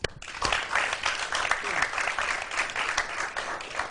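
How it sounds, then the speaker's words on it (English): Students and invited dignitaries clap for themselves at a televised evening event in the Gambia, with dense, even applause from a roomful of hands that begins sharply and carries on steadily throughout. "I would like you to clap for yourself."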